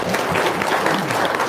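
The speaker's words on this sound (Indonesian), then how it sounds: "Tepuk tangan dong, luar biasa." Loud, dense applause from a seated audience at a religious healing talk, a continuous close roar of many hands clapping at once for the whole short stretch.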